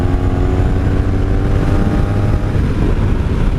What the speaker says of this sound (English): That was only a little bit of throttle, and she's willing to go in 5th gear.